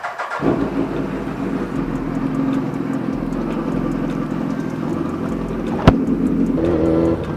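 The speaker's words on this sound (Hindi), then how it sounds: "पहले बाइक को कर लेते हैं वार्म।" A Suzuki Hayabusa motorcycle engine idles while warming up, a steady close low rumble with a sharp click or blip midway and slightly raised revs toward the end.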